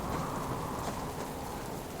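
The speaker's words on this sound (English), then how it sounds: "Yes, it's raining, which is making me wet" Steady rain in the survival game Subsistence, a continuous dense hiss of falling drops with no talk, even and unbroken from start to finish.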